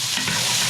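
Green and red peppers stirred in a hot frying pan, a steady close sizzle with soft scraping of the stirring throughout, no voices.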